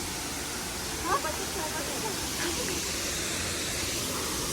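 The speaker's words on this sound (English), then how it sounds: "and this is the waterfall." Dudhsagar waterfall roars steadily in the distance, a broad even hiss of falling water without a break, with faint voices present beneath it.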